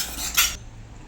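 A spoon clinks and scrapes against a metal pot while stirring a special tuna fish curry, one short burst of bright metallic scraping that stops abruptly, leaving quiet room tone.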